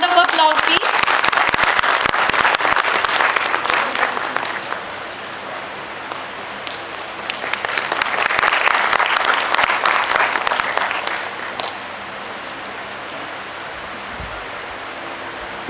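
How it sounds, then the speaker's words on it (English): Loud applause fills a college celebration hall, swelling in two long waves as a dignitary is welcomed with a sapling, then fading to a quieter room. "A huge round of applause"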